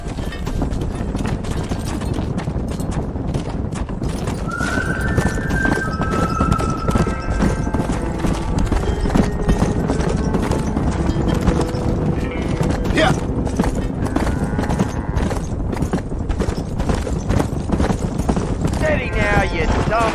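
Many hooves thud and clatter continuously in Red Dead Redemption, a dense ongoing trampling under shouted voices, with a few animal calls rising over it.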